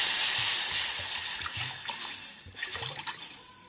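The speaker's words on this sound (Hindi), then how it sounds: "हम इसमें फर्स्ट पानी डाल लेंगे" Water is poured into a pan for making Maggi masala oats noodles, a loud, continuous rushing splash close by that eases slightly toward the end, with no talking.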